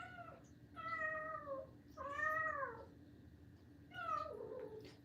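A cat meows four times in drawn-out, wavering calls with short pauses between them, fairly close and clear over a faint low background hum, with no talk.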